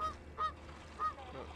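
Geese in the video game Thirty Flights of Loving give three faint, distant honks spaced a fraction of a second apart over a low ambient hum.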